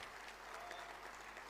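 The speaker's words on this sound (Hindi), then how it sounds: "इस गजल के लिए तो मुझे जोरदार तालियां चाहिए" Applause from the audience at a Hindi kavi sammelan in Nagpur after a ghazal, a soft, even patter of many hands heard from a distance, steady and fairly faint throughout.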